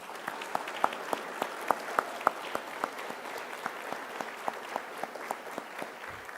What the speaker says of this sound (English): we're going to give you a big round of applause.